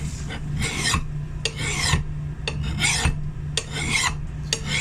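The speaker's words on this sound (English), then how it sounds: "sharpening an axe, and two, with a file I can control my angle better" Rhythmic rasping strokes of a hand file sharpening an axe edge, close and loud, about a dozen strokes in steady alternating bursts over a low background hum.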